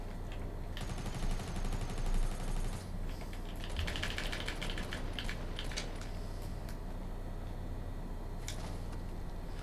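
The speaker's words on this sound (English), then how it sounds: "Is that you shooting?" Rapid gunfire bursts from a Fortnite Battle Royale duo match, a dense crackling stream of shots running loudly through most of the stretch with a busier flurry in the opening seconds, no voices.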